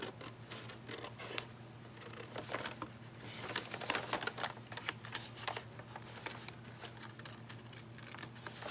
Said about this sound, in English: I'm just gonna cut right down the fold